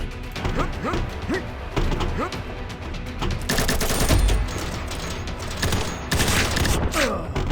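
Rapid gunfire crackles through the online shooter Combat Master, loud close bursts of automatic shots with sharp impacts and mechanical clatter, building into heavier overlapping volleys midway.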